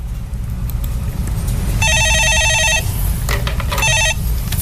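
A telephone rings in two electronic trilling bursts, a long ring and then a shorter one, over steady low background noise before a call is answered on a Korean stock market call-in show.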